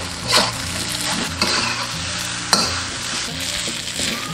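Steamed glutinous rice is stir-fried and tossed in a pan, a soft sizzle under repeated scraping and stirring strokes with a few sharper clinks, close and steady.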